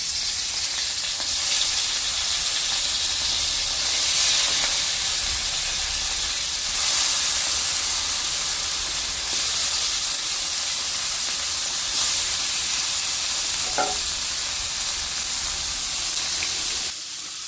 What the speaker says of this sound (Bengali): তেল গুঁড়ি গরম হয়ে গেছে, এখন দিয়ে দেবো মাছগুলো